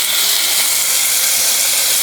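Ground tomato added to a hot pan while cooking a simple lunch, giving a loud, continuous bright sizzling hiss that holds steady and close throughout.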